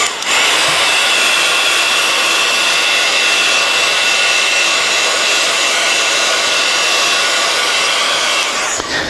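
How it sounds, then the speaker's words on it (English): A craft heat tool blows hot air over inked card, a loud, steady close-up whooshing hum running unbroken until it cuts off near the end, with no talk over it. "And then finally, I'll bring in my heat tool one last time."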